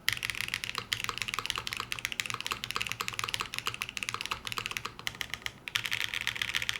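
Rapid, steady keystrokes on an Epoch 87 top-mount mechanical keyboard with a screw under the spacebar, a dense run of close, dull clacks with brief pauses and no voices.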